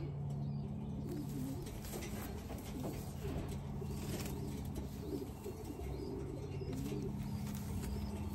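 Racing pigeons coo at a one-loft race entry, giving soft, continuous low cooing and burbling over a busy background with faint pattering and rustling wings.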